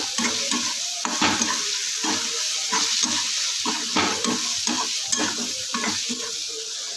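Pav bhaji vegetables stirred in a pan as they fry, a spoon scraping in irregular repeated strokes over a steady close sizzle, with no talking.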